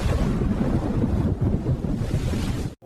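Thunder rumbles through a dramatized storm scene at the siege of Tyre, a loud, deep, rolling roar blended with wind and crashing surf that cuts off abruptly at the end.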